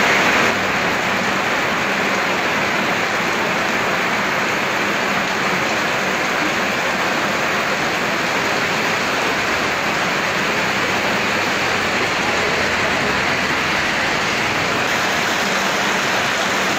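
Heavy rain pours down steadily during road tarring work, a dense, constant roar of water falling on the road surface with no pauses and no voices throughout.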